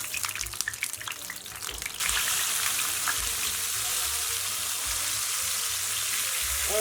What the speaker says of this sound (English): we're frying our eggplants all over until it's nice and brown